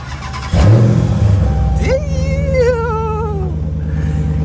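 A cammed Ford Mustang engine, started warm, jumps from a lopey idle into a loud rev that rises and then falls back to a rough idle, heard close.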